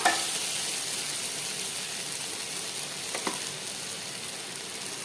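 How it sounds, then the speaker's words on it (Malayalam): Potato with curry leaves sautéing in a pan, giving a steady close sizzle and hiss throughout, with a brief stir or clink near the end and no speech. "കറിവേപ്പിലയും കൂടെ ചേർത്ത് കൊടുത്തിട്ട് ഒന്ന് വഴറ്റിയെടുക്കുക കേട്ടോ"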